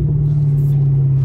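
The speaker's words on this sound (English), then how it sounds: "does a muffler delete make a difference? I'm telling you, it's so much louder." A Chevrolet Camaro with a muffler delete exhaust gives a short, loud, deep droning engine note, close and steady, with no talk.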